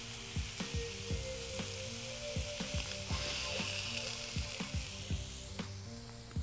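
Sausages sizzle on a plancha for rougail saucisse, giving a steady low hiss with repeated quick crackling pops in an irregular rhythm, close by and with no one speaking.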